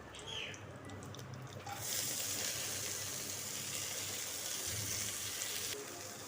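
Leafy greens going into hot mustard oil with green chillies, a sudden broad hiss that holds steady for several seconds, then cuts off, fairly faint and heard alone.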